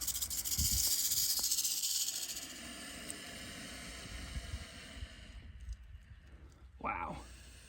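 A rattlesnake hisses close by in the open, giving a steady breathy hiss in the opening seconds that fades into quieter outdoor noise, followed by a brief sharp rustle near the end.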